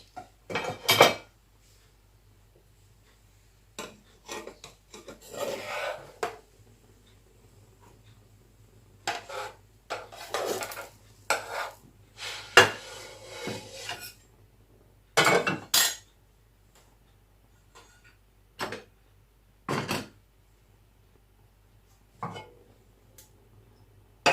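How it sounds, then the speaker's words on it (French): Homemade harcha, a milk semolina flatbread, is eased loose from the pan, slid onto a plate and turned over: scattered sharp clinks and scrapes of utensils against dishes, close and irregular, with quiet gaps in between. "Et on va la faire glisser sur une assiette pour la retourner."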